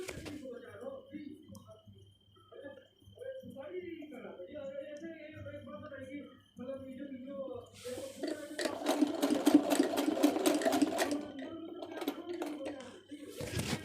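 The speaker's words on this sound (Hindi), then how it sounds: "इस तरह से अब हमें यहाँ पे सिलाई करना है इस तरह से।" A sewing machine stitches a suit fitting. A person speaks first, and then the machine runs fast for a few seconds and rattles close by before falling quiet, with occasional clicks afterward.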